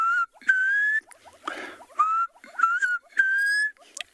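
A person whistles a short melancholy three-note phrase, repeated four times with brief pauses, imitating a black cuckoo's call; clear and close.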